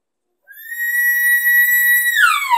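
A human caller imitates a wimpy elk bull, one steady thin whistle-like tone that holds and then drops off in a short falling break at the end, close and loud with no talking.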